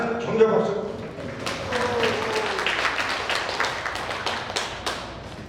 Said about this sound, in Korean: 많은 격려 박수